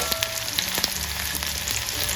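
Small onions fry in hot oil with mustard seeds and lentils in a pan for a South Indian pirandai kuzhambu, giving a steady, close sizzle with scattered pops and crackles.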